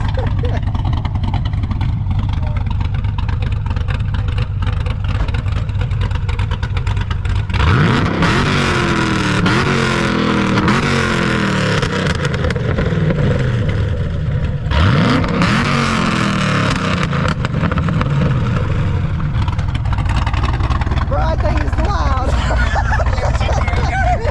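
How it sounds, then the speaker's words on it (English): A Ford Mustang engine revs hard in a few rising and falling bursts, loud and close, with people talking throughout and a steady idle rumble between the revs. "you gotta rev this thing for me now"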